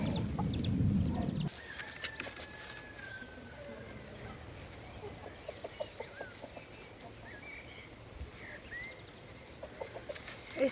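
Chickens cluck faintly in a rainy garden plot where potatoes are being planted, with sparse short calls scattered over soft background noise after a brief loud rumble at the start.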